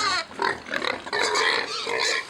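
Pigs on a small livestock farm grunt and snort continuously in a dense, overlapping chorus, fairly close and loud, with no break in the noise.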